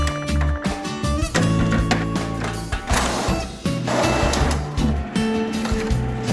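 A home printer runs a sheet through, with close mechanical whirring, clunks and paper-feed rattles in uneven bursts and stops.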